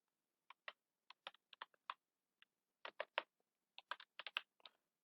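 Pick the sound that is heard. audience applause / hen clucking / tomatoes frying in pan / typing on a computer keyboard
typing on a computer keyboard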